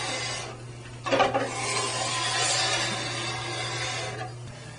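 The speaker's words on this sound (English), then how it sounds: "With every pass, you're taking off a little bit more file, or a little bit more edge with each pass" A metal file rasps steadily along the edge of a ski or snowboard during base beveling, close and fairly loud, with one sharper scraping stroke early on amid continuous filing strokes.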